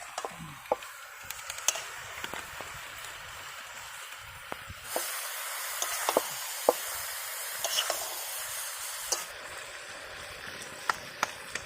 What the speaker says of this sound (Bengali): নুন দিলাম হলুদ আর এবারে জিরের গুঁড়ো দিচ্ছি